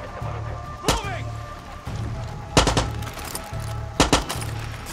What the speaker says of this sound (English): The fuck's he shooting at?